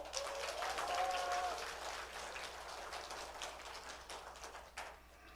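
An audience claps at a joint campaign rally for a county-head candidate in Jinan, a dense crackle of hands that starts full and slowly thins toward the end, heard at a moderate distance.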